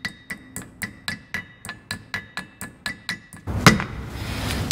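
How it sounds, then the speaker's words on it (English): Steady run of about a dozen sharp metallic taps from an impact screwdriver on a front disc brake part of an early VW Bus, evenly spaced and close, then a louder clank and scraping rustle. "A couple of taps to lean it forward."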